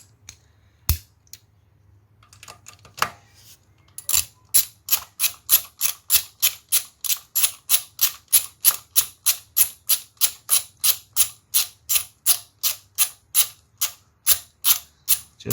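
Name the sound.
ratchet and 12mm socket tightening a bolt on Honda VFR800 centerstand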